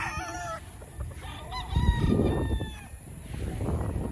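Farm chickens with a rooster crowing and hens clucking, calls overlapping at moderate distance amid a steady barnyard murmur and some rustling.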